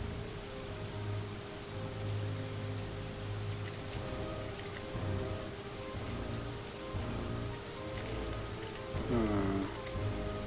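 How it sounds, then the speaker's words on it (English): Rain falling in the video game Dwarf Fortress, a steady, soft hiss of drops on a surface that runs continuously at low volume, with a faint tonal game sound near the end and no voices. "It's raining up there."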